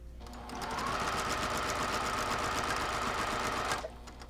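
A sewing machine runs a quilt block seam, with pins pulled just before the needle reaches them. The stitching is fast and continuous, with a steady mechanical whir and rapid needle chatter that holds close and even for about three seconds.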